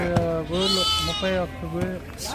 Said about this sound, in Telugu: గొర్రెలు అన్నీ ఉన్నాయి ఇక్కడ బండికి ఎత్తుతా ఉన్నారు